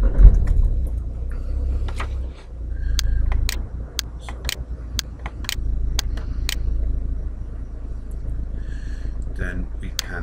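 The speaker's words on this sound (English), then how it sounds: "Let's just start the car." A GM car engine runs with a steady low rumble, alongside a series of light clicks and taps close by.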